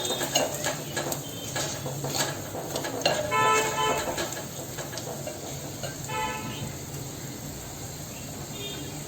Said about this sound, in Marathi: आपण छान असं थोडासा परतून घेऊया.